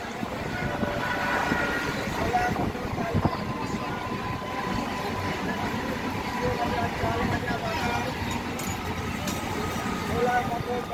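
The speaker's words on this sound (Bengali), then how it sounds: "নৈহাটি জংশন থেকে কিন্তু এখন গেড়ে যাওয়ার ট্রেনটি ধীরে ধীরে প্ল্যাটফর্ম ত্যাগ করবে" A local train slowly pulls out of the platform at Naihati Junction, a low continuous rumble of rail cars rolling past close by, with voices talking over it throughout.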